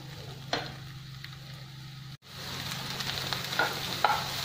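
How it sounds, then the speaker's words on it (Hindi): Carrots, peas and cauliflower cook in a pan for a vegetable soup, giving a soft steady sizzle with occasional stirring scrapes and a brief pause midway. "और फूलगोभी, इन चीजों को डाल के हम इसको थोड़ा सा पका लेंगे ताकि थोड़ा सा ये सॉफ्ट हो जाए।"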